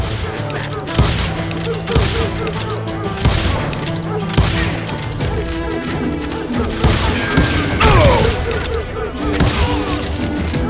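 Continuous Wild West gunfight in Call of Juarez: Gunslinger, a loud dense barrage of overlapping shots, ricochets and impacts with regular heavy reports, voices shouting beneath the fire.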